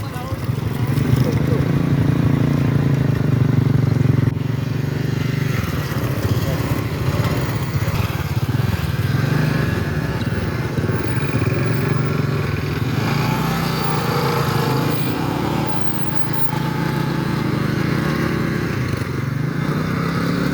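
A motorcycle engine idles and rumbles steadily up close beside floodwater in a village after rain, a continuous low drone without pause.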